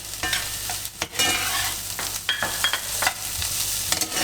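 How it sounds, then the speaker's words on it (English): Green beans added to a pan of vegetables frying with salted onions for coconut jollof rice, with a steady sizzle and scraping stirs of a utensil, close and continuous, no talking. "The green beans go in."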